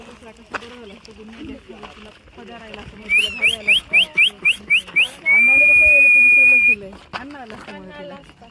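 A person whistles during a Sunday hike on ARAI Hills (Vetal Tekdi) in Pune: a run of short, clipped rising whistles, then one long steady held note, all close by, with conversation before and after.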